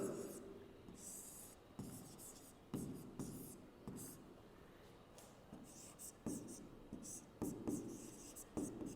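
Marker or chalk writing on a board during a geography lesson, with repeated scratchy strokes and short squeaky bursts in an uneven rhythm, fairly close and moderately loud, and no talk over it.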